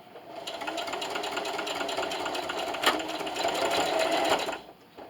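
Sewing machine backstitching a seam on a plastic bag dispenser, a close steady motor whir with rapid needle chatter running continuously for several seconds before stopping.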